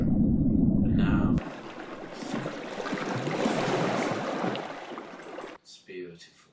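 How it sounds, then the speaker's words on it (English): Underwater ambience from the Crest ocean system in Unity, heard through a submerged microphone: a steady, dense wash of muffled water noise and bubbling hiss that holds for several seconds, preceded by a low rumble and ending in quieter gurgles. "we can hear the sounds of underwater"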